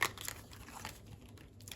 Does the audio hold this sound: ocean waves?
no